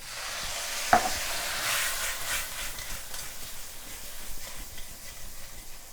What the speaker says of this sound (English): And now we get to add the brandy.